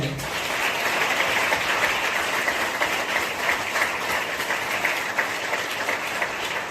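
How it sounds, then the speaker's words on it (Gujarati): A church congregation claps together in steady, dense applause that fills the room evenly and carries on without a break. "આશીષિત થયેલા લોકો તાળી પાડે"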